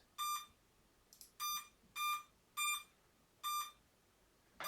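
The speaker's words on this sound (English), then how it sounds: "You can ignore the beeping in the background." Hexsoon 650 hexacopter drone flight controller beeping during setup before a first flight, a series of six short, evenly spaced electronic beeps, fairly quiet and in the background, with no talking.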